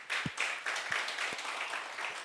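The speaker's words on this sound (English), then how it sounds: "So let's give them a round of applause" Light applause from a small audience at a crypto product showcase, a few scattered claps standing out over a soft, steady patter.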